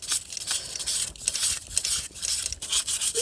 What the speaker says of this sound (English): we're gonna follow up with the sandpaper. This is 800 sandpaper,